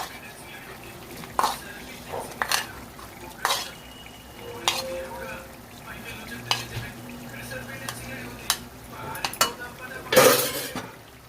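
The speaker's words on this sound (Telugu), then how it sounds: "డ్రై ఫ్రూట్స్ వేస్తున్నానండి" Dry fruits go into hot ghee for bread halwa, with a spoon clattering against the pan, scattered clinks and stirring over a soft sizzle, and a sharp burst of metal on metal near the end.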